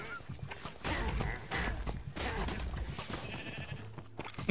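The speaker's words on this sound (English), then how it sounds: "I saw the sheep flying off the ledge, Kayla." A video-game sheep bleats several times in a row over a busy, noisy background, each call fairly faint and mixed in with other game sounds.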